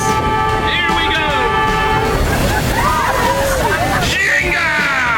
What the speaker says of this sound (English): Our captain is turning on the propeller and doing this